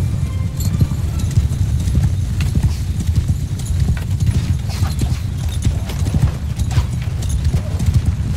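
Horse hooves gallop in a steady, dense clatter throughout a Mount & Blade II Bannerlord battle as cavalry charges, loud and continuous with a faint background din.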